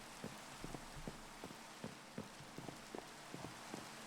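Rain in Minecraft: a steady hiss of rainfall with a fairly quiet, even wash of drops and soft, regularly recurring patters layered over it, with no talking.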